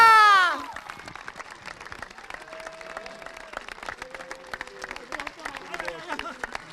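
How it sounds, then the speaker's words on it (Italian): An audience breaks into applause to welcome Mirko Casadei, steady moderate clapping from a crowd that follows a short burst of a loud voice at the start. "Accogliamo con un super applauso"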